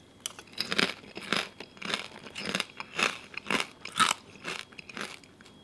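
Someone eats papaya salad with thin rice noodles and crispy pork, with rhythmic, close crunching bites and chewing repeating every half second or so, without talking.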